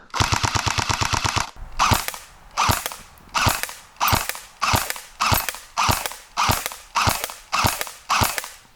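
An electric blowback airsoft gun fires a fast buzzing burst, then single shots follow in an even rhythm of about ten loud, sharp cracks, each with a mechanical clack, close up and with no talk.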